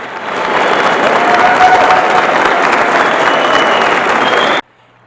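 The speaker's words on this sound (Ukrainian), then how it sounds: "Студенти коледжу зустріли воїна Збройних сил України бурхливими оплесками." College students applaud enthusiastically for a soldier of the Armed Forces of Ukraine at an athletics event, a loud, dense burst of clapping that holds steady for about four and a half seconds and then stops abruptly.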